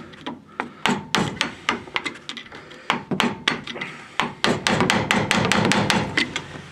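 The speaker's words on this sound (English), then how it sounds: "take a screwdriver and go up on top and just hit it" A screwdriver is hammered against a seized brake adjustment bolt on a Toyota 4Runner's drum brake, producing repeated sharp metallic knocks in uneven bursts that grow denser and faster toward the end, close and loud with no speech.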